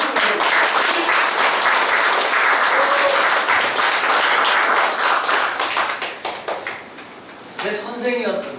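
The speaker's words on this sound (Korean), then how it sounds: "뜨거운 박수로 환영해 주시기 바랍니다" Warm, loud audience applause at a business seminar welcomes a speaker to the stage, sustained dense clapping that thins out near the end as a voice starts to speak.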